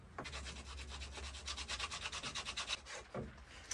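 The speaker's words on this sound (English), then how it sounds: "I'll have to sandpaper that end off a little bit." Sandpaper rubs back and forth across the end of a piece during a campervan conversion, giving a close, rhythmic series of raspy scratching strokes that speed up into quick repeated passes before slowing at the end.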